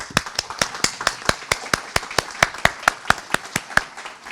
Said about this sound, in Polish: Oklaski!